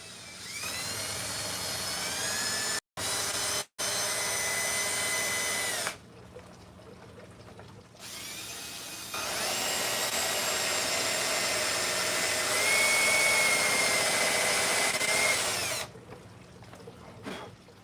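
A power drill with a dull bit boring into wood whines loudly in long sustained bursts, cutting out briefly a few times, then running again at slightly shifting speeds.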